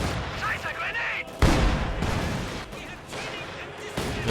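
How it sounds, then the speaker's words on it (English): An SU-76 self-propelled gun in a video game firing on a building, one heavy boom standing out among scattered gunfire and battle noise, with a voice talking over it. "The SU-76 is shooting away at the building."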